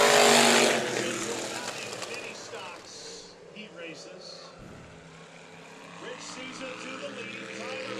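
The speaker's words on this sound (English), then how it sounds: "2 laps down, and we got 3 cars duking it out" Race cars in a heat race on the dirt track at Kern County Raceway roar loudly past at first, then fade into a more distant, droning engine hum that lingers at lower level.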